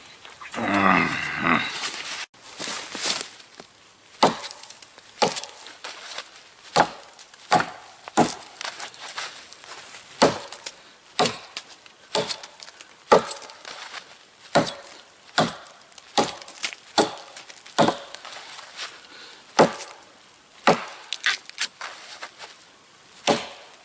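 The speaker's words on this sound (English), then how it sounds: "I like a bigger axe, so I can use two hands and control my chopping." An axe chops wood in sharp, regular strikes at a winter camp, each a crisp thwack with a splintering edge, repeating steadily at close range.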